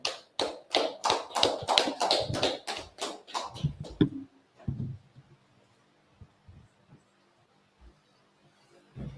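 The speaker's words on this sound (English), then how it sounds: "Clap it up" A class claps together in a brotherhood meeting: about four seconds of loud, close, rhythmic clapping that stops abruptly, leaving a quiet room with a few faint thumps and shuffles.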